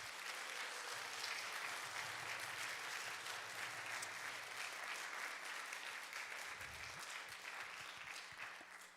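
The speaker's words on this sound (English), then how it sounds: "So why don't we give big applause to you?" Steady applause from a symposium evening audience, sustained and fairly distant, holding an even level for the whole stretch with no talk over it.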